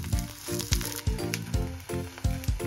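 Thick slices of spring onion steak frying in a hot pan, giving a steady sizzle that comes in short, regular pulses, close and moderately loud with no talking.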